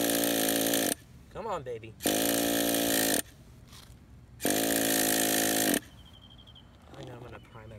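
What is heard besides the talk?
Traxxas Nitro Stampede nitro engine trying to start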